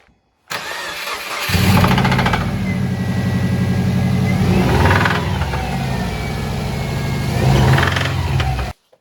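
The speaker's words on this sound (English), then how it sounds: "allows the piston to move around and create a slapping noise" A cheap Subaru WRX engine starts up and runs with rod knock, a knocking, slapping rhythm from a loose piston, the mechanical clatter steady and close with a couple of brief rises in revs.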